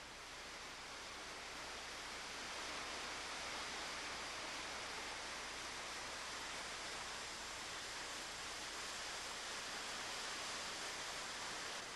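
A waterfall on Moloka'i pours into a pool below, giving a constant, even roar of falling water with no voices or other sounds.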